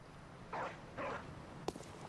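A dog barking at a door in the video game Bloodborne: two muffled, distant barks about half a second apart, followed by a brief knock-like thud over a steady low background hum.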